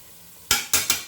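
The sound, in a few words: stirring drained prawns for biryani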